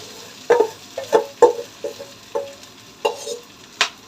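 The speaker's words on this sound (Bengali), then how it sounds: "ভালো করে একটু নেড়ে নেব।" Turmeric-coated rice is stirred in a pan, with a series of separate scraping and clinking strokes at irregular intervals, close and fairly quiet, with no voice over them.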